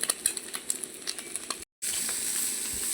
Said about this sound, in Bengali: এই বাকি মাছ কটাও ভেজে তুলে নিচ্ছি